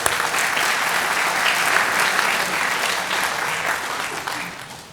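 A room of people at a senior awards and cording ceremony gives a round of applause: steady, full clapping that holds evenly and then gradually fades out.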